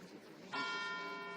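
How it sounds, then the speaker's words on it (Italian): A church bell rings out near a youth football pitch in Verona province, a bright sustained toll that starts abruptly and hangs on under the faint outdoor murmur of the match. "Senti le campane!"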